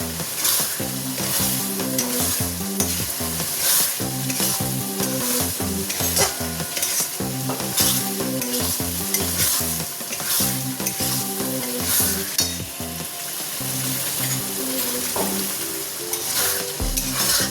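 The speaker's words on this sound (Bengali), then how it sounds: "এটা এখন ভাজতে থাকবো, ভালো করে ভাজবো এটাকে।" Masala for a vegetarian potato paneer biryani fries in oil under a steady sizzle, while a spoon stirs and scrapes the pan in quick rhythmic strokes, close and continuous.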